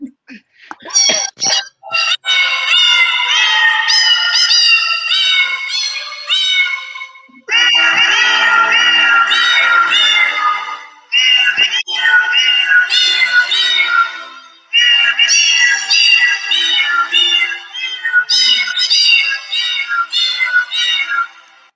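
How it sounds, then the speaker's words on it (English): Several cats meowing in a long series of loud, drawn-out, strained meows, one after another, with brief pauses between the bursts and no talk. "We just wanted you to know we kind of had a little Zoom meeting with Guillaume, your cat, and some of his buddies"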